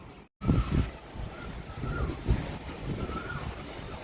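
Strong wind buffeting the microphone in heavy low rumbling gusts, with a brief dropout near the start and faint tones drifting in the background.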